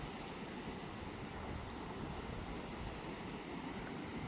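Ocean waves on a cold, foggy coast make a steady, dense wash of surf noise with some wind rumble, continuous and fairly faint, and no voices.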